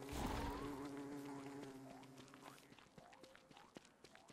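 A bee buzzes close by in the survival game Don't Starve Together, droning steadily and shifting pitch as it hovers and circles, with small taps and footsteps under it.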